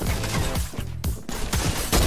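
Gunfire in Fortnite, where a heavy sniper rifle cracks loudly and rapidly amid other shots, with sharp reports and brief echoing tails in a short burst.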